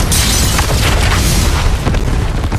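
A loud, dense burst of gunfire and impact noise from a Fortnite Zero Build match, sustained and booming throughout with no pauses.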